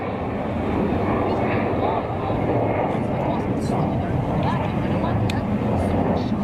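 A Gulfstream G550 business jet makes a derated takeoff at Zurich Kloten Airport, a steady, broad engine roar heard from a distance that holds at an even level throughout.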